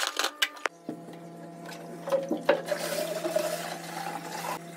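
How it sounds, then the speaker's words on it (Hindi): Water poured from a bottle into an air cooler, starting with a few clunks and knocks, then a steady gurgling, splashing pour that continues close by until the end, with no talking. "अब इस बोतल का जो पानी है वो इस कूलर में डालना है"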